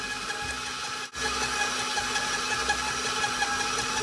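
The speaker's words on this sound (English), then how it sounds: "We're going to increase the speed back up again and let this mix for a couple more minutes." A stand mixer kneading poppy seed roll dough at higher speed gives a loud, continuous motor whir, broken by a brief dropout about a second in before resuming steadily.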